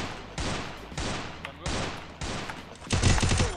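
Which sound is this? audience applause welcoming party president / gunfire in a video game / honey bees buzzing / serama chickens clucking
gunfire in a video game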